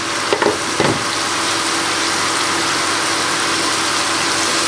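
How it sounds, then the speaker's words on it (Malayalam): Sliced onions fry in oil for a Kerala-style chicken dum biryani, giving a steady, loud sizzle throughout, with a couple of brief stirring scrapes near the start. "ഇപ്പോൾ സവാള ചെറുതായിട്ടൊന്ന് വഴന്ന് വന്നിട്ടുണ്ട്."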